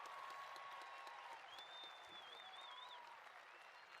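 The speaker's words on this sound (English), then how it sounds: "How about another round of applause for our performing arts folks tonight?" Steady applause from a graduation ceremony audience honoring the class of 2016 at Red Mountain, a dense, even wash of clapping that holds for the full few seconds, with faint background voices and whistles threaded through it.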